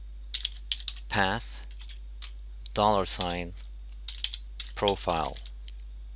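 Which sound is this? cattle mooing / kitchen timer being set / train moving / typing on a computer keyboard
typing on a computer keyboard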